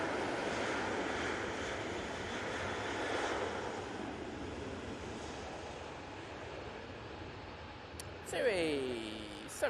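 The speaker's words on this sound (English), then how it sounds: "737-800 now on the roll" Tui Boeing 737-800 jet rolling for takeoff at Manchester Airport, a faint, distant, broad engine roar that holds steady, with a brief rising squeal near the end.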